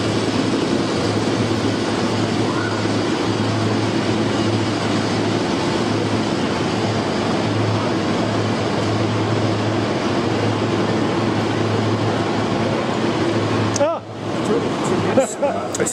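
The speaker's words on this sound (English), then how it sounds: "Oh, there's an interesting little train here." A small train idles at a railway station with a steady, loud mechanical rumble and low hum that fills the scene, ending in a sharp clatter and bump near the close.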